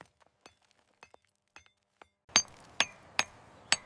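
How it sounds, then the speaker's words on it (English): Hammer and chisel strikes on sandstone blocks while cutting White House stone: sparse light taps, then four sharp, ringing metallic blows spaced about half a second apart, close and clear with no talk. "Workers cut White House sandstone blocks using chisels, hammers, and iron wedges."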